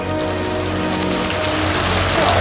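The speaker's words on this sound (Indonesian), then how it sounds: "Hujan-hujan kayak gini nak." Heavy rain pours steadily at night, a dense, continuous hiss of drops striking surfaces, close and loud throughout with no voices.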